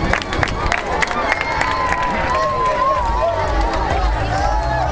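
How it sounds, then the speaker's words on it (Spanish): Children at a Montevideo harbour arrival of the Three Kings break into dense crowd applause and cheering, a loud steady clatter of clapping mixed with excited voices throughout. "estallan con aplausos a la llegada de los tres reyes magos"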